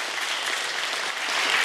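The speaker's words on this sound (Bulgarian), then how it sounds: "аплодисменти" A studio audience at a televised national lottery show claps steadily and densely throughout, a full sustained round of applause with no voices on top.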